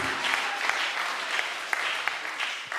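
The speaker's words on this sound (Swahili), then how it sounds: "Piga tena makofi mazuri" A church congregation claps their hands together in a dense, sustained round of applause, with sharp claps standing out from the steady wash.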